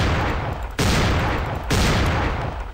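Sustained bursts of gunfire in the horror video game Halloween The Game, loud and dense, with a brief break near one second and another near 1.7 seconds before firing resumes.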